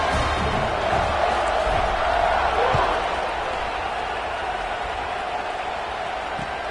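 A stadium crowd in the College Football 26 video game buzzes and murmurs after a score, a broad steady roar with occasional thumps, while a commentator talks over it.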